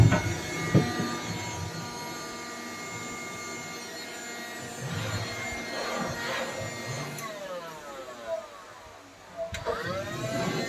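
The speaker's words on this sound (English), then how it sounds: "I'm gonna vacuum it from inside out." A vacuum cleaner runs steadily inside a corn snake's vivarium during a monthly heavy cleaning, a continuous whirring drone with shifting pitch as the nozzle moves, no talk over it.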